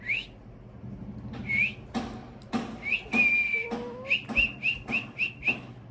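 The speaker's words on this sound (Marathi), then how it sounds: "करू शिट्टी वाजू" A whistle blown in a family home, sounding a long note, another long note, then a quick run of six short toots, loud and close over low room noise.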